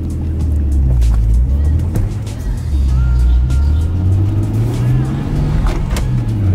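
A Nissan R33 Skyline engine and turbo while driving: a loud, steady low engine drone heard from inside the car, rising gradually in pitch as it pulls.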